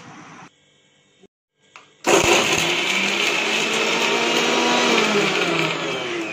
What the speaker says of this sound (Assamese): কেটামান কেঁচা জলকীয়া, এডোখৰ আদা, কেটামান জালুক আৰু কেইফুটামান নহৰু লৈ এনেদৰে মিক্সাৰ গ্ৰাইণ্ডত ধুনীয়াকৈ মিক্স